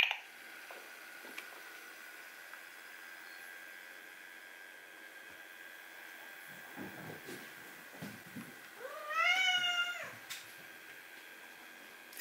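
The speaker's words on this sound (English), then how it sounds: "It's quite literally the cat's meow." A cat gives one short, rising meow near the end, heard over a steady electrical hum and faint background noise, with a few soft rustles just before it.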